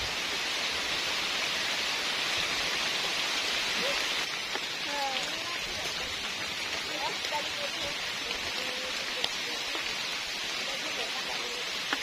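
Rain falls steadily on a campsite in heavy weather with strong wind, a dense continuous patter and hiss on surfaces throughout, with faint birdlike chirps and scattered drops standing out near the middle.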